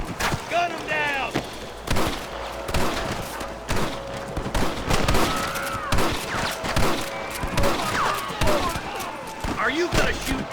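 Shots crack in rapid bursts during a shootout with rustlers in the Western game Red Dead Redemption, loud, repeated gunfire mixed with game voices shouting and a musical score underneath.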